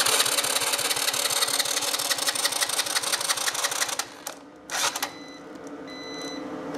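A quad bike's starter turns the engine over with the choke on, a loud close rhythmic cranking for about four seconds that falters and dies, followed by a brief second burst and then near quiet.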